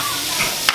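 Ethiopian food sizzles and fries in a pan, a steady bright hiss with a quick stirring scrape near the end.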